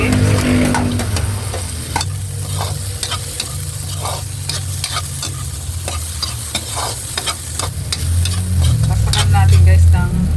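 Garlic, onion and sweet potato sauté in a pan for Filipino ginisang togue, with loud constant sizzling and frequent sharp scrapes and clicks of a spatula stirring up close.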